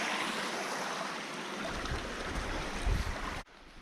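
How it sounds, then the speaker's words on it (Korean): A waterfall on Cuyamaca Peak in San Diego gives a steady, broad rushing roar that swells slightly before cutting off abruptly near the end, heard alone with no voices. "폭포다."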